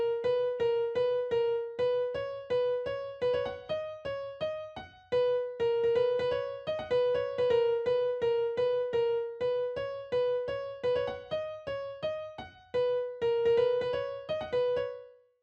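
Plucky synth lead melody recreating a track's drop, a steady stream of short, bright, repeated notes in a bouncy rhythm with brief gaps between phrases, clean and alone.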